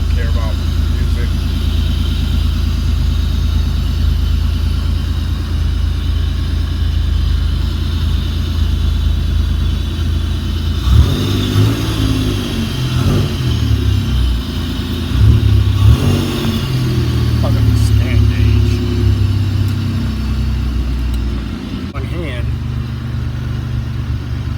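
A supercharged 3800 V6 in a Pontiac Fiero runs loud and steady, with revs rising and falling in bursts near the middle before settling back to a rough idle.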